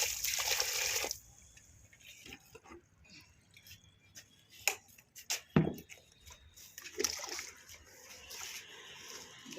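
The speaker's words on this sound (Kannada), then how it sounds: "ನಾನು ಎರಡೆರಡು ಜಗ್ ಹಾಕ್ತಾ ಇದ್ದೀನಿ ನೋಡು ಎಷ್ಟು ಚೆನ್ನಾಗಿ ಹಾಕ್ತಾ ಇದ್ದೀನಿ" Water poured from jugs onto potted plants on a home terrace, a bright splashing burst at the start, then scattered trickles and drips, with a sharp splash near the middle and renewed pouring toward the end.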